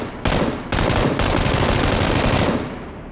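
Sustained automatic gunfire in PlayerUnknown's Battlegrounds (PUBG), loud and close, with dense rapid bursts running almost continuously and brief gaps before the firing resumes.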